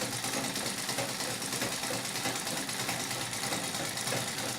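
A Singer 31-15 industrial treadle sewing machine doing straight-stitch free motion quilting, making a continuous, even mechanical whir and rapid stitching chatter that runs without a break.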